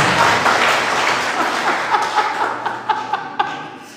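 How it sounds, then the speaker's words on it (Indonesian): Church congregation clapping for God during a healing service, a dense round of applause that thins out into scattered individual claps toward the end, with a few faint laughs. "Kita berikan tepuk tangan dulu buat Tuhan"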